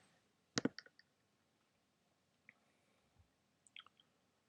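Computer mouse clicks on a spreadsheet, a sharp double click followed by a few softer scattered clicks and another small cluster later, close and isolated in near silence.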